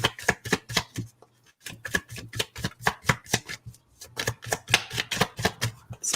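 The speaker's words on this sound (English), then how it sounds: "As I keep shuffling." Tarot cards are shuffled close by in rapid bursts of crisp riffling snaps, repeating in quick rhythmic runs with a brief pause partway through and no talking.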